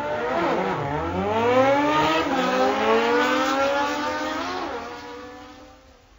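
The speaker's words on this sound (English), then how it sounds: "Motorcycle." A single motorcycle engine revs up and down in smooth rising and falling sweeps, loud and close with no other sounds, easing off and fading near the end.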